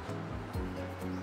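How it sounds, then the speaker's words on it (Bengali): Potatoes sizzle steadily in a pan with spices while being fried for alur dom, a continuous close hiss with soft crackles through the short moment. "আলুটাকে মশলাগুলোর সাথে খুব ভালোভাবে আমি ভেজে নিব"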